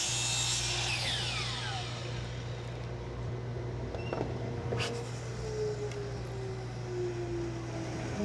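A saw blade cuts through wood in a continuous rasping run of about eight seconds, with a steady low hum under the strokes and no talking.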